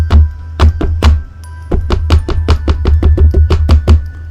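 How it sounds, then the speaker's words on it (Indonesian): Loud, insistent knocking on a door in a horror story, a rapid run of heavy knocks that grows quicker toward the end, over a low steady hum. "Suara ketukan pintu itu semakin keras."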